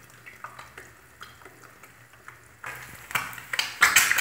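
An egg frying in a pan under a lid, a soft crackling sizzle with small pops that grows louder and brighter toward the end, close by and with no talking.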